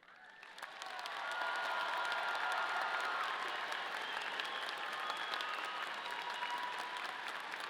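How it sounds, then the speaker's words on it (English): A large audience at a Colorado State University College of Liberal Arts graduation applauds the Honor Scholar candidates, clapping building within the first second into a steady, even roar of many hands that holds to the end, heard from a distance. "Will the candidates for Honor Scholar please rise so that we may applaud your achievements?"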